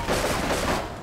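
Gunfire in Grand Theft Auto 3 comes as a brief, dense burst of rapid shots, loud and harsh over about a second before trailing off.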